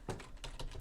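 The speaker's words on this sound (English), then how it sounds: "we are typing in 387, parentheses around it" Computer keyboard keys are tapped a few times in quick succession, soft close clicks entering a phone number, with no talk.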